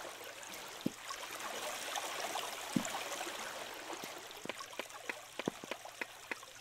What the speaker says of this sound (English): You got the water sounds real good